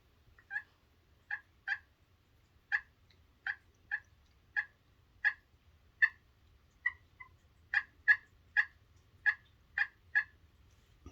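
A turkey friction call worked with a Deluxe Striker of hard wood gives high-pitched yelps and clucks, about sixteen short evenly spaced notes in a fairly clean, close sequence with brief pauses, no voices.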